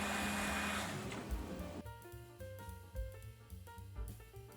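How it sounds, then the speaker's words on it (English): Plunge blender whirring through San Marzano plum tomatoes, a steady close motor drone that changes pitch as it churns, with a few knocks against the container. "blend the San Marzano plum tomatoes with a plunge blender"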